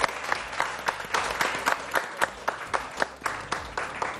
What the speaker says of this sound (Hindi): तालियां बजानी है। 1 2 3 गो।